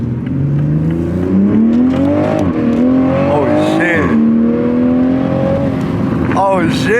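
A Toyota Supra engine revving and accelerating from inside the car, a loud rising tone climbing through the gears with brief shift dips, while people talk over it.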